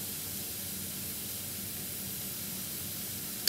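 Soy sauce hitting a hot pan of chicken adobo, a steady broad sizzle and hiss that holds evenly throughout, loud and close, with no talking.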